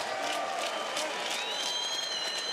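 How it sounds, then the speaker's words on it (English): Continuous crowd applause and cheering fill a bare knuckle boxing fight night arena, steady and fairly loud throughout. "let's have a round of applause for these 2 lightweight warriors"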